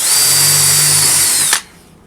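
A loud, close power drill runs at full speed briefly while drilling a hole in the side of a DIY acoustic panel, a steady high-pitched whir that stops abruptly with a short clunk.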